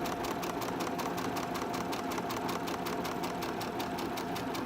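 A sewing machine stitches Halloween sew-along fabric pieces in a steady, rapid mechanical rhythm, close and continuous throughout.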